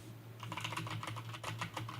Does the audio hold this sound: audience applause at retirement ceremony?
no